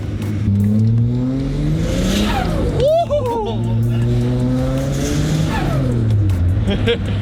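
A turbocharged car engine with pinging revs loudly and steadily with rising and falling tones, a brief rapid rev burst in the middle, and voices talking over it.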